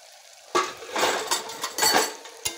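Mustard and raw cumin paste is stirred in a pan, with a spatula scraping and clinking against the metal in a few bursts over a light sizzle, close and without speech.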